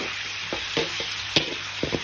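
Steady hiss of onions frying in hot oil, with a few soft scrapes and clinks of stirring scattered through, close and continuous.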